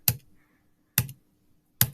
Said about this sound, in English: I can use the arrow key and I'll go frame by frame